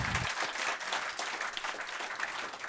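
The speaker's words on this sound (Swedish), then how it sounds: "en varm applåd" A seated audience at a panel debate on the EU gives warm, steady applause for the panelists, a brief continuous wash of clapping.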